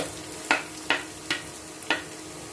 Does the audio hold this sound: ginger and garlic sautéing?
yes